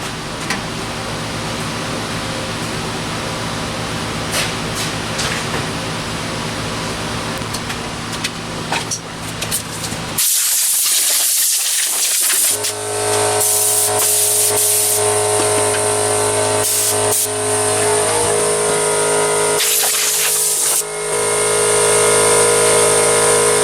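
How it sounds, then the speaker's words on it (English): Compressed air blasts over the engine bay of a big-block square-body Chevy before priming, a loud steady broadband hiss with long continuous bursts and short gaps, close up with a shop air compressor hum underneath. "Now it's time to mix up some sprayer, some primer, blow this stuff off one more time."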